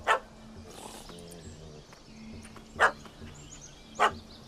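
Dog barking in The Witcher 3: Hearts of Stone, three sharp barks at the start, near 2.8 s and near 4 s, set over a low game ambience with a faint voice murmuring.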